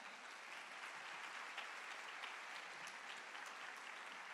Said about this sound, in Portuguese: Pode dar uma salva de palmas, é para Jesus.